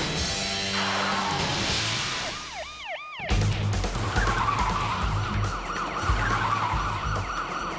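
Stolen red sports car skidding at a junction during a nighttime police chase on the Jersey Turnpike. Sirens wail, then after an abrupt break comes a loud, sustained tire screech with engine roar and sirens still sounding.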